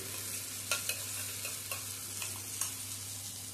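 Ground spice paste for a winter mixed-vegetable navaratna paneer sizzles quietly in a pan, with a soft steady frying hiss broken by a few light clicks and scrapes of stirring.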